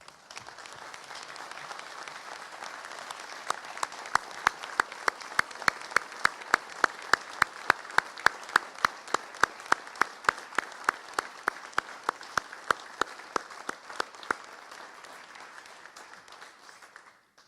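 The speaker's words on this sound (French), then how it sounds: "nous pouvons l'applaudir le plus chaleureusement possible" Applause at a municipal council installation meeting, with a soft bed of scattered clapping and one close pair of hands beating a sharp, regular rhythm through the middle before the sound tapers off.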